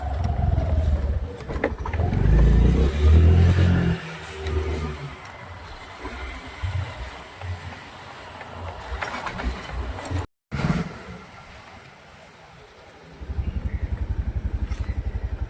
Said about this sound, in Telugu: మళ్ళీ బైక్ తీసుకొని వెళ్తున్నాను